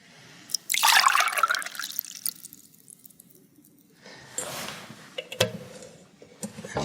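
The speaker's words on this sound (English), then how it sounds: "Cold water first." Cold water poured into a pot gives two bursts of splashing, gurgling flow with drips in between, close and fairly loud.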